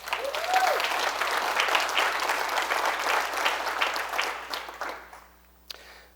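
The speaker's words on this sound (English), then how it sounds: "So give Michelle a big hand clap." Steady applause from a seminar audience for a volunteer, dense and sustained before fading out, with one last stray clap near the end.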